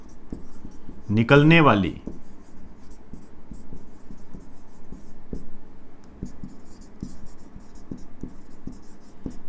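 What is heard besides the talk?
writing a line by hand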